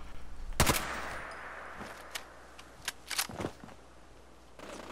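Rifle gunfire from an AK in Fallout 4: a loud sharp shot near the start, then scattered quieter cracks and a short burst later, with no talk.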